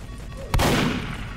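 A single loud AK-47 shot in the Roblox prison game, a sharp crack with a brief booming tail, close and dominant over faint background game sound.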